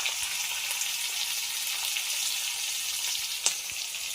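Cumin seeds and green chillies sizzle steadily in a spoonful of hot oil for a tadka poured over cucumber salad, a continuous close hiss with a brief pop near the end.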